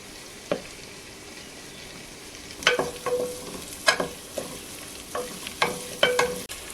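Ginger garlic paste and garlic frying in ghee for chicken chilli, with scattered sharp sizzles and spits at irregular intervals over a low, steady background hiss, close by and moderately loud, with no talking.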